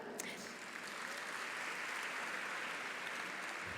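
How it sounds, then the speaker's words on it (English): Audience applause at a university graduation ceremony, a steady dense wash of many hands clapping at moderate level, fairly distant and even throughout. "I even think you deserve a round of applause for that"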